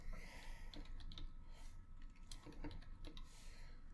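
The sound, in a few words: typing on a computer keyboard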